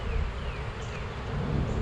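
Honey bees swarming around an open hive, a dense, steady buzzing hum close by that holds at an even level throughout, with no voices.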